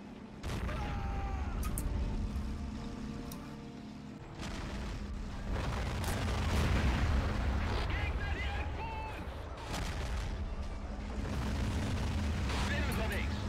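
Artillery fire in the Men of War: Assault Squad 2 war game rumbles as dense, overlapping booms and blasts, loud and continuous, with a steady roar of battle beneath.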